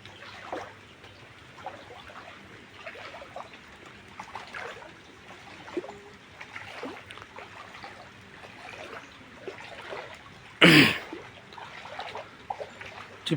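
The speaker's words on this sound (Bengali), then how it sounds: "টিপ টিপ করে বৃষ্টি এখনো পড়তেছে" Light rain drizzling down outdoors with water trickling steadily, a soft, continuous patter with scattered drips, faint and ambient, and one brief louder splash or clatter near the end.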